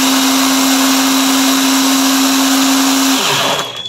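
A battery-powered portable chainsaw on a full charge runs with a loud, steady high-pitched whine, then winds down and cuts off near the end.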